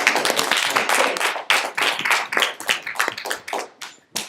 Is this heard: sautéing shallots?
no